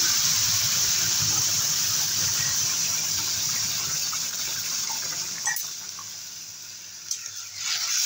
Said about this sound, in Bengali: তরকারিটা ঢেলে দেবো।